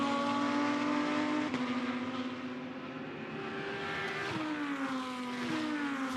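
A GT2 race car circles the Misano circuit, its engine holding a strong, high, steady tone, then dropping sharply under braking with pops and gearshifts before revving back up, loud and fairly close with no talk over it.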